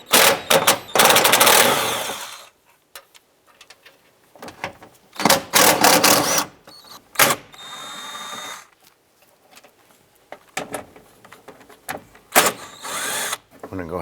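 Ratcheting and clattering tool sounds with spurts of a powered driver as a 10mm socket removes the screws holding the window regulator motor on a 2001-2007 Ford Escape, in bursts separated by pauses, close up.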